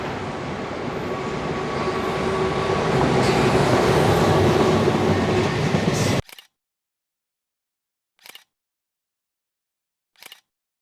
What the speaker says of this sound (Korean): 마침 이 카페에서 기차가 또 지나가는군.